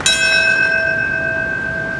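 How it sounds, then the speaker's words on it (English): A single bell strikes in New York City on the 12th anniversary of September 11th, ringing out loud and clear with a long, sustained tone that slowly decays. "that bell in New York City marking the moment when the first plane struck the World Trade Center"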